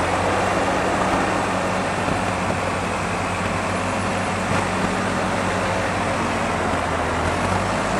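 Doosan 5k pneumatic tire forklift driving around outdoors, a steady low engine drone with broadband rumble holding constant and fairly loud throughout.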